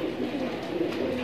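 Low soft cooing of a Moradabadi desi bhurra pigeon, a double-eyelid domestic bird, comes as a continuous murmuring coo at close range with no voices.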